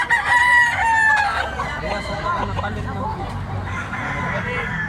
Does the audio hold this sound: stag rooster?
yes